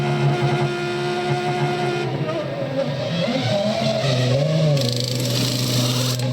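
Ferrari Formula One car of Rubens Barrichello making a pit stop at the 2000 San Marino Grand Prix: a loud, steady engine drone with harmonic tones that shift and dip as the car slows, joined by hissing, airy noise.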